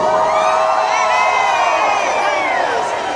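A large crowd at an assembly shouts and cheers in a steady, loud roar of many voices that carries on without a break.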